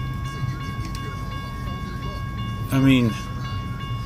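BNSF trailer train led by Warbonnet locomotive 4703 crossing Baker St, a steady low rumble with a brief loud horn blast near the end, with someone talking throughout.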